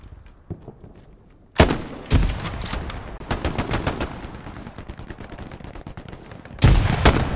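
Gunfire in Hell Let Loose, a World War II shooter: close, loud shots crack out one after another, including rapid runs of automatic fire, separated by brief quieter gaps.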